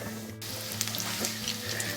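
Crumbed chicken thigh fillets sizzle in a frying pan, a close, steady crackling hiss with small spitting pops and a faint low hum beneath, no voices.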